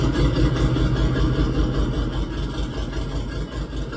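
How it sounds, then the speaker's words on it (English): A Chevrolet Camaro with two racing seats and a vacuum issue runs steadily, its engine giving a continuous low rumble with light clatter, close and fairly loud throughout with no talking. "First car we got to hear run."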